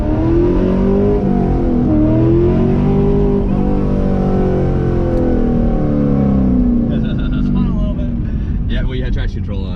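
A C8 Corvette pulls hard under acceleration, its engine note loud and close with the revs stuttering as traction control cuts in, while voices talk over it.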